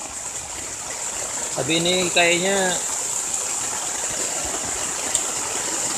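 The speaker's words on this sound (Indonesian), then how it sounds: "masih hujan dari jam 1 tadi" Heavy rain drums in a dense, steady hiss on a tent during motorcycle camping, close and continuous, with someone speaking briefly over it.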